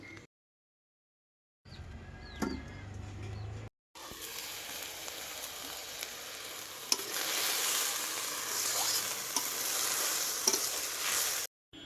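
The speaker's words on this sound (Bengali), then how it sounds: "তারপরে তো একটু তেল দিয়ে আবার মটরশুঁটি আর সিমটাকে ভেজে নিলাম" Peas and flat beans frying in oil in a wok: steady crackling sizzle with scraping stir strokes, starting after a short silence and building to a loud continuous hiss that runs to the end.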